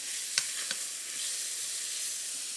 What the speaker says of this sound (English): And we'll toss the rest of the beef into the pan.